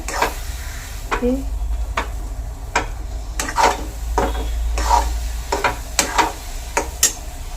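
Fresh grated coconut barfi mixture stirred in a pan, with repeated scraping strokes and a soft sizzle under a low steady hum, close and fairly loud, and a brief voice heard once.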